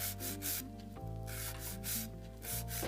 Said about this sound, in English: So 180 grit file.